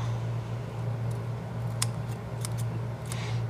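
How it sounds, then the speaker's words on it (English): Scissors snipping off the extra end of a homemade bandage, a few short close crisp cuts over a steady low hum. "And so we're going to cut that off."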